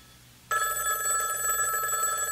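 A phone hidden inside a hat starts ringing after a quiet half-second, then keeps up a steady, bright, continuous electronic bell tone, close by and alone.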